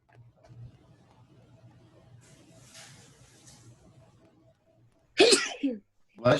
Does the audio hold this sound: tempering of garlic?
no